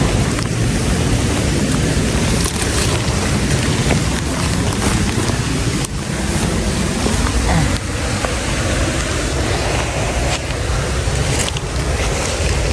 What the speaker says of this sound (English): It started raining right before I got back to the truck.